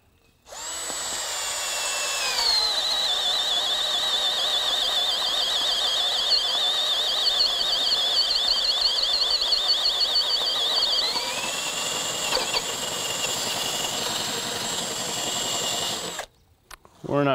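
A Chinese professional-line power drill on high speed boring a 1.25-inch hole through wood, a loud steady whine with rising squeal for about sixteen seconds before cutting off abruptly.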